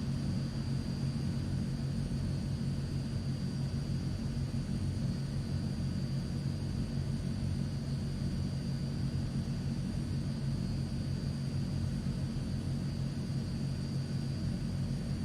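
A Transall C-160 twin-turboprop transport taxis in a flight simulator, giving a steady, continuous engine drone with low rumble and a constant high whine, unchanging throughout with no talk.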